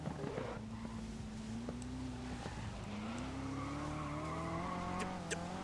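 A car in the GRID 2019 racing game revs and skids as the handbrake is pulled, with a steady engine drone, sliding tire noise and a rising engine note, all close and continuous without talk.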